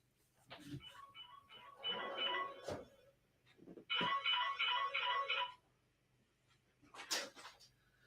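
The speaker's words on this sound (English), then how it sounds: "somebody's ringing me" A mobile phone ringtone chimes in two bursts of melodic tones during a football match watchalong, with someone talking and crowd noise around it.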